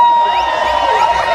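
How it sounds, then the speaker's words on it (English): A large crowd at the Seville Emancipation Jubilee celebration in Jamaica, with Kingston people cheering and shouting loudly in a continuous, dense roar, with musical tones sustained over it. "Make we hear the Kingston people them."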